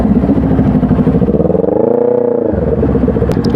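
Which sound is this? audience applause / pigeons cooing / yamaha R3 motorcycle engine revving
yamaha R3 motorcycle engine revving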